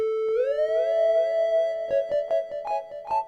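A MorphWiz app synth tone glides upward into a steady pitch and repeats through a digital delay, with overlapping echoed copies and a run of short pulsing notes toward the end, loud and clean with no voices.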